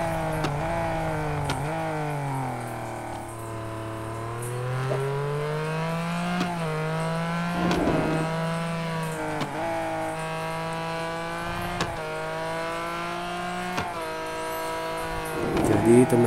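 Race car engines in the mobile racing game Real Racing Next drone steadily and loudly, their pitch sliding up and down with gear changes and acceleration, with a few brief sharp bursts along the way.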